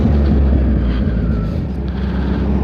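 A 2019 Kawasaki Ninja 1000 motorcycle engine drones loud and close while riding, a continuous low rumble with no speech.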